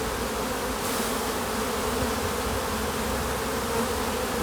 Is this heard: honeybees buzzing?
yes